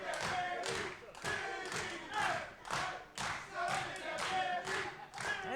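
A wrestling crowd at a live match claps and cheers in rhythmic surges, with repeated thuds and waves of noise rising and falling throughout.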